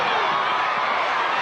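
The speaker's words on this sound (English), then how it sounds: "Crowd breaking out in song once again as the restart comes from the Australians" A large stadium crowd at a Tonga versus Kangaroos rugby league match, a dense, loud, continuous roar of many voices that sounds like mass singing, with no break.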